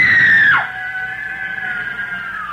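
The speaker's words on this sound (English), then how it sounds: "The girl, screaming with rage," A girl screams with rage in a 1937 Mutual Network radio drama of Les Misérables, a loud shrill cry in the first half second that drops sharply into a sustained tone under a quieter background.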